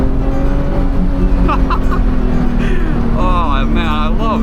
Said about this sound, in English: I'm having such a blast driving this car